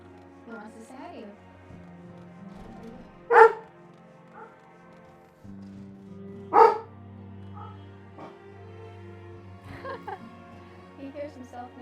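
Shadow the dog gives two sharp, loud barks a few seconds apart, close by, with a few softer yips and whimpers scattered around them and a person talking quietly throughout.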